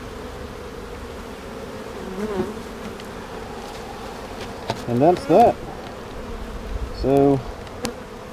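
Honeybees buzz around an opened hive during oxalic acid treatment, a steady low hum with several louder bees zipping close past in brief rising buzzes, and someone speaks briefly.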